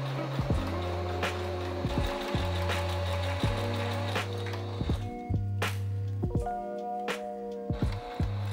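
A sewing machine stitches along a waistband, its motor humming in steady runs broken by short stops and restarts, close and clear with no talking.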